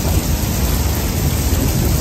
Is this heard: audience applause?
no